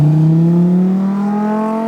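A gunmetal slate gray Lamborghini Huracan convertible near an airport gives a loud, close engine note that climbs steadily in pitch over about two seconds as it revs.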